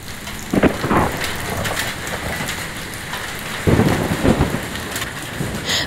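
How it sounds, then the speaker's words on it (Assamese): A violent hailstorm with strong wind batters Bilasipara and Lakshmiganj, a dense, loud roar of hail and rain pounding surfaces continuously, with heavier bursts of impacts. "বিলাসীপাৰা লক্ষীগঞ্জতো ভয়ংকৰ শিলাবৃষ্টি আৰু ধুমুহাৰ তাণ্ডৱ"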